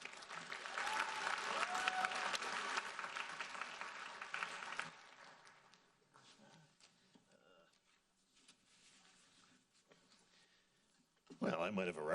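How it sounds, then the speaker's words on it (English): A high school graduation crowd applauds loudly for about five seconds, the clapping then thinning to quiet scattered claps and room noise before a burst of sound returns at the end. "Another round of applause for Ms. Desiree Fillmore, please."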